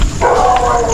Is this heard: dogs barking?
yes